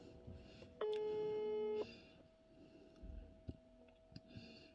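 Phone call placed and left ringing unanswered, a single electronic ring tone sounding for about a second through a handset, followed by quiet room noise and small clicks.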